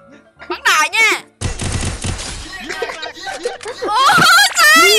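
Rapid bursts of gunfire from the mobile battle-royale game Free Fire, loud and dense, broken up by excited voices talking and chuckling before and after the shooting.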